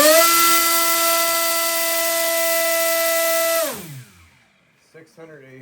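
A small RC electric motor spins a 7-inch folding two-bladed propeller at high speed, giving a loud, steady whine with strong harmonics. It winds down sharply near the end, and a few faint clicks follow.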